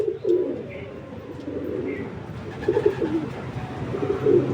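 A spotted dove coos softly indoors, with a few low, muffled calls spread across the clip over quiet background rustling.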